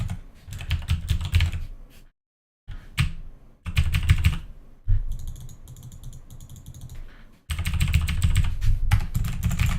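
Keys on a computer keyboard clatter in fast, dense runs broken by short pauses, close and crisp, with a brief lighter mechanical clicking passage in the middle and no voices.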